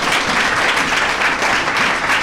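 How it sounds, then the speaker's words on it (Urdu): Steady, dense applause from a church congregation fills the whole stretch, loud and continuous without a pause. "خداوند کے کلام کے لیے زودہ تالیاں"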